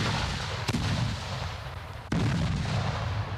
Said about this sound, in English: The British return the fire.